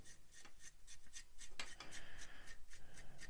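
Brush strokes rubbing paint across a 1/48 Revell PBY-5 Catalina plastic model kit, a soft repeated scratchy rasp in quick rhythmic passes, close and fairly quiet.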